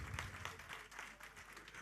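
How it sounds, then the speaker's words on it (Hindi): Audience applause at a Bollywood performance event, a brief burst of dense clapping from a crowd, fairly faint and steady throughout with no voices. "जोरदार तालियां इनके लिए"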